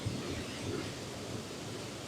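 A constant wash of falling water pours down at Devils Glen waterfall, an even, close rush with no breaks or other sounds standing out.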